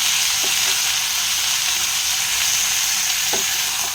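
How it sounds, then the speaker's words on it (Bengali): Potatoes and chicken fry in hot oil in a pan, a loud, steady close sizzle that continues throughout, with a couple of faint knocks. "এর সাথে সাথে আমি কিন্তু আলুগুলোও দিয়ে দিচ্ছি। আলুও বেশি ভাজা করবো না, একদম হালকা ভাজা হবে।"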